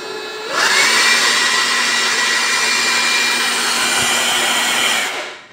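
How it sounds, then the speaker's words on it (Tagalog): A powerful Keelat cordless electric blower whirs up to full speed and holds a loud, steady high-pitched roar for several seconds before cutting off. "sa tunog pa lang na ang blower niya, napakalakas talaga"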